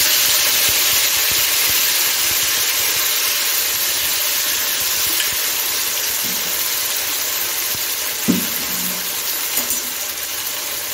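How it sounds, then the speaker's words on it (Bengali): Prepared spice paste goes into hot oil for tangra fish tel jhaal, giving a continuous, fairly loud sizzling hiss over a low steady hum, with a couple of brief utensil knocks near the end. "এখন আমি বানিয়ে রাখা পেস্টটা দিয়ে দিচ্ছি।"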